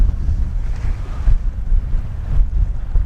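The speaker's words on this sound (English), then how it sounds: "the wind's starting to ease off a little bit now" Steady, loud wind buffeting a microphone at a breezy seaside fishing spot by the sea at Eyemouth, with a continuous low rumble and gusts swelling and easing, waves faintly underneath.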